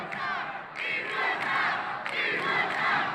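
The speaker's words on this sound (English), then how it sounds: "As the crowd is chanting for number 25, Thomas Riley, to come in the game" A basketball crowd in a school gym at an alumni night game chants together in rhythmic, repeated shouted phrases, loud and echoing, several rising bursts one after another.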